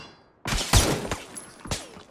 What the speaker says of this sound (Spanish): ¿Por qué me disparan a través de la pared?